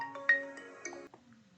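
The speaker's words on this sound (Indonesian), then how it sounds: "Bentar ya, saya terima telepon dulu." A phone rings with an incoming call during an online mathematics lecture: a short melodic ringtone of bright tonal notes, moderately loud and alone, fading after about a second.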